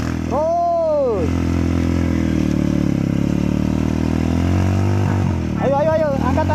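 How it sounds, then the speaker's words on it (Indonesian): A 150cc motorcycle engine revs hard in two sharp rising bursts at the start and end, with a steady loud idle between and people talking and shouting over it outdoors. "motornya yang cukup luar biasa. 150cc"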